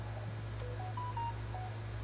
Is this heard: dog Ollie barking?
no